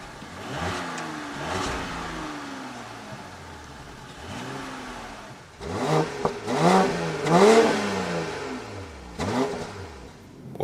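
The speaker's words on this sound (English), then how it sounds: "starting here with the BMW 540i, the 6-cylinder in the 5 Series, and we go with the Autobahn acceleration" A BMW 540i with its six-cylinder engine accelerates hard on the Autobahn, revs climbing and dropping through several gear changes, heard steadily from inside the car with a constant road and wind roar beneath.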